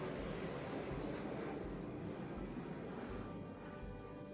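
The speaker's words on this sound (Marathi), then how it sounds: "आज तर फायटर प्लेन बघायला भेटलं होतं" A fighter jet roaring steadily overhead, a broad low rumble that stays fairly constant and faint, then eases slightly toward the end.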